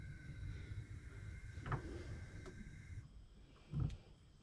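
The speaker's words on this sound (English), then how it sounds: "excuse the fan noise" A low, steady fan hum drones faintly throughout inside an RV during a propane oven installation, with a couple of soft thumps and clicks over it.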